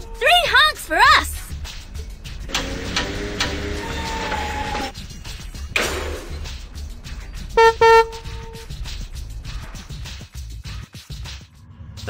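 Cartoon train horn toots sound from a Chuggington storybook app, a quick run of bright, rising honks at the start, followed by a narrator's voice, music and more short tooting effects.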